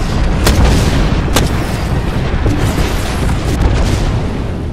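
Airstrike explosions in Apex Legends, Gibraltar's bombardment pounding as a continuous loud roar of booms with sharp blasts standing out early and scattered impacts throughout.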